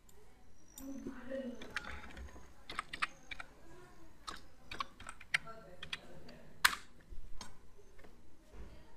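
Keys on a computer keyboard click in scattered, uneven bursts, close and fairly quiet, with soft sounds in the room around them.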